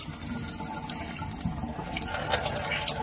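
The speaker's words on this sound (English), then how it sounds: "Just rinsing the fish off." Running tap water splashes steadily over a drum fish being rinsed, close and continuous with small spattering bursts and no talk.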